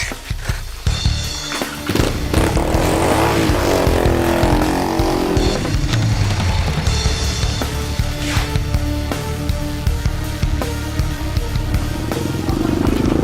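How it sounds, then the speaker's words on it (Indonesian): A motorcycle rides fast in a street chase, its engine a loud, continuous roar with rising revs blended into a dense, busy soundscape throughout. "Ngejarnya pakai motor. Lebih cepat."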